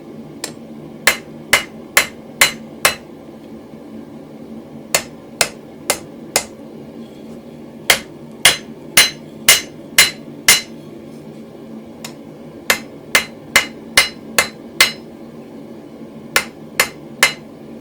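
A blacksmith's hammer strikes hot steel on an anvil while forging a toasting fork, sharp ringing blows landing in quick bursts of four to six separated by short pauses, close and loud.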